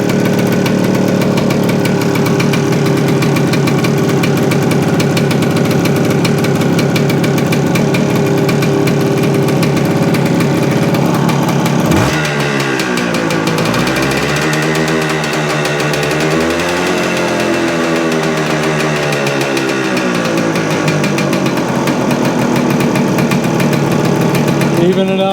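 A 1976 Suzuki TS400 motorcycle engine runs loud and close in a steady idle, with a rhythmic mechanical knock; partway through, the revs dip and rise unevenly before settling, and talking can be heard over it.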